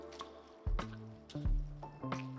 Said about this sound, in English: These are several geothermal hot springs with boiling water, steam and bright colors.